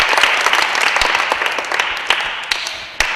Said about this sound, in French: On va applaudir pour lui.